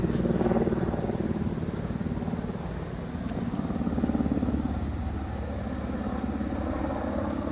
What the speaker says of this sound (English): Helicopters up there.